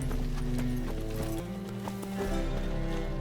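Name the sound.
horse Roach galloping in The Witcher 3 video game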